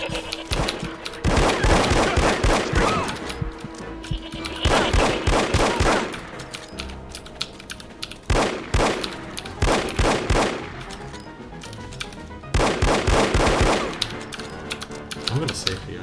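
Player's weapon firing in the video game No One Lives Forever: repeated bursts of rapid gunfire, loud and close, in several volleys, with a voice talking between them.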